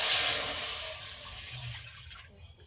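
Water poured from a mug into a cooking pan for rice-flour pitha dough, a steady splashing gush that gradually thins and trails off.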